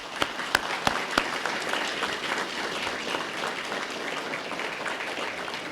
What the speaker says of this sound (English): please give everybody a round of applause and thank them for their service